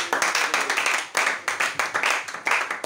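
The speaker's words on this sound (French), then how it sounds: "Acclamons pour mon ami Jules." An audience at a French-language Christian talk applauds with dense, brisk clapping that stays close and steady throughout, in short rhythmic bursts, with no voices over it.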